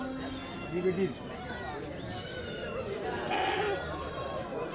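Sheep bleat briefly at a goat market in Kadayam, with a short cluster of calls early on. The bleats sit under steady nearby talking and a busy crowd murmur.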